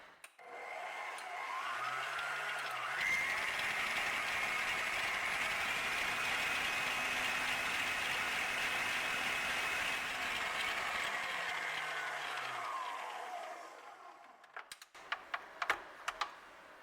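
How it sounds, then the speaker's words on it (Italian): An electric mixer whips fridge-cold cream in a bowl, a steady whirring drone that holds for about ten seconds, starts and stops with a brief pitch change, and gives way to light clinks at the end. "La prima cosa da fare, andiamo a montare la panna."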